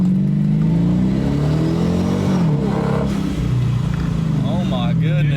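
A rebuilt, formerly wrecked 2018 Dodge Charger police car accelerates hard, its engine droning loudly up through the gears with rising pitch sweeps, while a voice talks faintly underneath.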